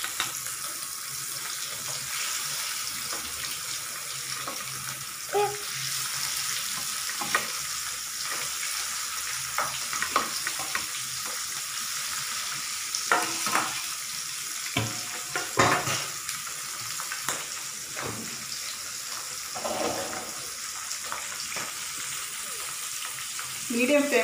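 Fish pieces fry in hot oil in a home kitchen, giving a steady, close sizzle that runs throughout, with occasional clinks and stirring knocks from a utensil and no talking.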